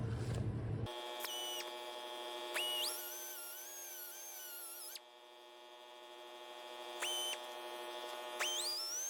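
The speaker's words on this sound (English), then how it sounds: "I'll just take my little Dremel and kind of take some of that out so I can get the bolt started" A small handheld Dremel rotary tool whines at high pitch, spinning up and down in several bursts while grinding out a bolt hole on a steel brush guard for a 2023 Ford F-150, with a steady electrical hum underneath.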